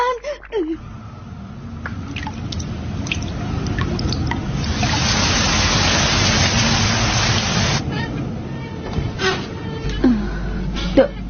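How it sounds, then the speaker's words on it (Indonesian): Wind and rain outside an old wooden temple, a steady rushing wash with dripping that swells in the middle, while voices talk over it at the start and end. "itu cuma angin dan hujan juga"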